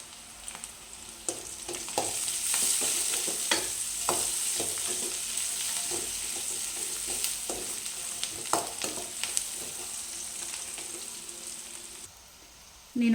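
Onion and green chilies fry lightly in a pan with a continuous moderate sizzle, punctuated by repeated spatula scrapes and stirs, with no voices; a clatter comes at the very end.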